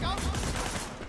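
A dense burst of rapid gunfire from the video game Sleeping Dogs, loud and continuous for about a second, with a voice talking over it.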